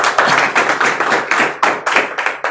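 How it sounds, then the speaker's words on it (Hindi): An audience at a Sunday motivational meeting claps hard together, a quick series of sharp, loud, slightly uneven clap bursts repeating close by for a couple of seconds. "एक जबरदस्त ताली हो जाए"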